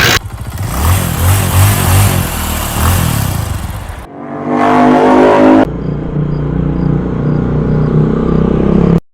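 A vehicle engine revs hard and close, a medium rumble that rises and falls with the throttle, with a sharp shift in tone partway through as it is driven. No one talks.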